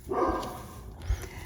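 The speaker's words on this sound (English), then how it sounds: "I can hear my dog barking." A dog barks a couple of times, faint and somewhat distant, in an otherwise quiet room.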